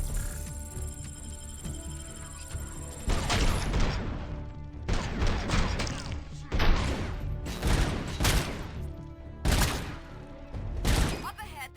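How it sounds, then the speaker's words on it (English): Bursts of gunfire in a Robocop video game as shots take grenades out of the air, loud repeated volleys with thuds and crashes separated by short gaps, over a low background hum. "Shoot the grenades out of the air."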